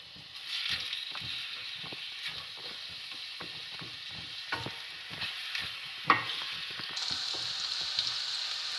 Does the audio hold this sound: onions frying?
yes